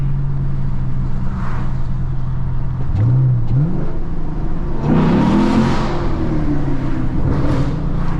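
A Camaro 2SS V8 revs in a tunnel, a loud, steady rumble broken by sharp rising throttle blips and a longer surging rev that rings off the walls, with no voices.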